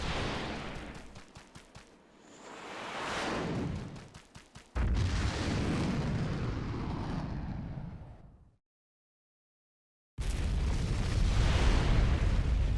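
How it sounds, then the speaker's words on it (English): Explosions in the action video game Asura's Wrath: a loud, sustained roaring blast with crackling bursts, a sudden second boom, an abrupt cut to silence, then another heavy roar. "How did he cause this explosion with no arms?"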